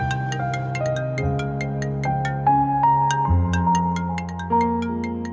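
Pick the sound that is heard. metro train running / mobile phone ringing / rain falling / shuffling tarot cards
mobile phone ringing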